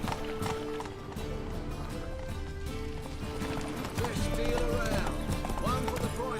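Roach, a horse in The Witcher 3, gallops with rapid rhythmic hoofbeats, a brief whinny near the end, and game music playing underneath.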